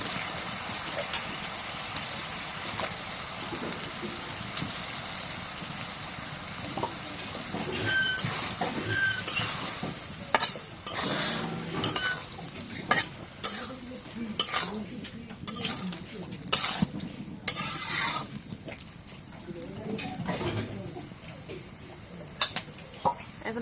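Small puti fish frying in fried spices in a pan, a low sizzle under irregular bursts of stirring and scraping that grow busier midway, with a faint engine-like rumble in the background and no talk.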